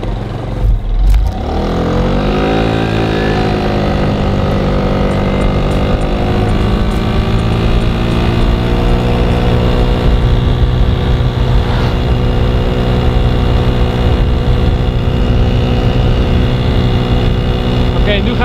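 A tuned Zip scooter engine revs up and settles into a steady, buzzing drone, close and loud throughout, with rising pitch early on as it accelerates to about 40.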